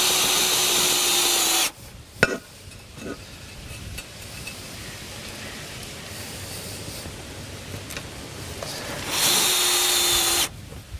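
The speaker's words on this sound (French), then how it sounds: "je visse un petit écarteur ici, et toujours fixé par deux vis" A power screwdriver drives screws through a small spacer into a ceramic tile terrace on a steel support frame, with loud whirring bursts at the start and end and quieter handling noise between them.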